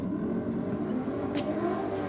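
A Ford Cortina race car accelerating along the track, a loud, steady mid-range engine drone held close throughout the short burst, with no talk.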